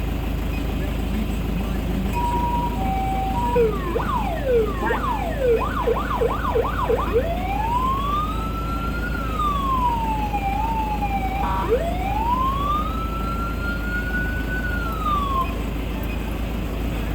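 An ambulance siren is tested in quick succession through several modes: brief tones, a fast yelp, then slow rising and falling wails, loud over a constant engine idle, with a voice speaking now and then.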